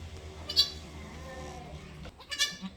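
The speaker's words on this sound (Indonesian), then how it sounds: "ini si anak pejantan bur F3 baru lahir" A newborn Boer crossbreed goat kid, minutes old, gives two short, faint bleats close by inside a colony pen, set against a low steady background hum.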